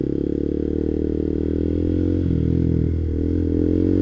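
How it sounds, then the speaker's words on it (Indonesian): A clutch-shift motorcycle idles nearby, then its engine note climbs as it eases away in first gear, a loud steady mid-pitched hum with no talking. "injak tuas persneling ke gigi 1, lalu kopling dan gas tambahin secara bersamaan, perlahan-lahan sampai motornya jalan."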